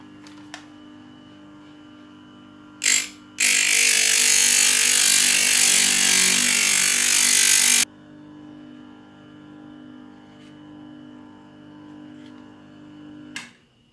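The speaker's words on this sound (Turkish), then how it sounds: "Bunu da biraz zımparalayacağım." A short burst of loud abrasive whirring from a power sander on a rusted metal part of a drill, a few seconds long, surrounded by a quiet background hum and small clicks.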